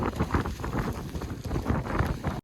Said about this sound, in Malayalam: അത്രയ്ക്ക് കാറ്റാണ്